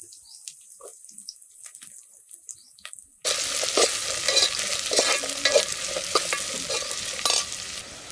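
Cumin, onions and green chilies drop into hot oil for village-style cooking, and the sizzle bursts in suddenly after a quiet stretch of small clicks, then stays loud and crackling as the pan is stirred.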